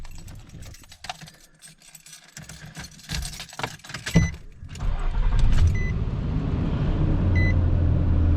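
A car engine cranks and catches after an alternator replacement, preceded by clicks and small clunks, then settles into a loud, steady idle close by.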